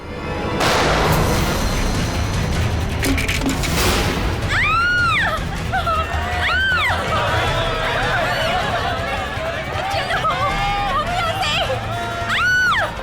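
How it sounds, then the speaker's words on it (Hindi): In a TV crime drama, a sharp gunshot-like crack rings out amid a bustling crowd in a jungle, followed by commotion, shouting voices and rapid whistling, siren-like tones. "अरे गोली चलने की आवाज कहाँ से आई?"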